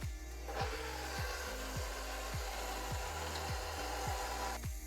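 An electric mixer churns flour in a bowl, giving a steady close whir with a repeating rhythmic sweep as the beaters turn, with no voices.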